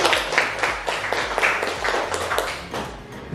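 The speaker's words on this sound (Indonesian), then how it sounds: "Tepuk tangan dulu buat kita." Students clapping in a mathematics classroom, a short burst of uneven, overlapping claps at moderate level with some low background hum underneath.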